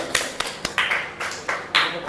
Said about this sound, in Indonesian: Tepuk tangan buat kelompok yang memilih akuarium 2